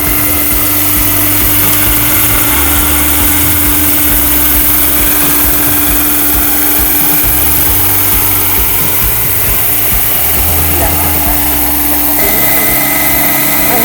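A radio-controlled UH-60 Black Hawk scale model helicopter in US Army markings on its first flight, its engine a loud, steady high-pitched whine with a constant drone throughout, close and without voices.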